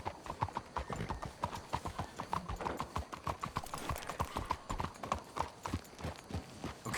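Horse hooves clip-clop in a steady rapid rhythm across Red Dead Redemption 2, close and continuous with an occasional faint whinny, several animals moving together at pace.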